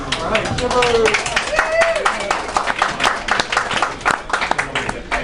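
Enthusiastic crowd clapping in a sports bar during a live on-location sports radio broadcast, sharp scattered claps from many hands with crowd noise and voices talking over them.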